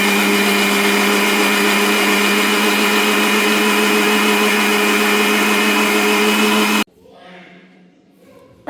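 Mixer grinder blending soaked raw rice with water into a smooth batter, a loud steady motor whine for nearly seven seconds that stops abruptly, leaving faint room noise.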